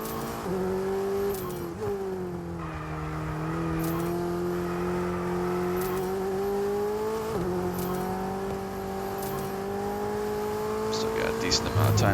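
Simulated Formula 1 car engine from the F1 22 racing game at the Austrian circuit, a steady loud whine with quick pitch drops as it downshifts, continuous throughout with a voice talking over it.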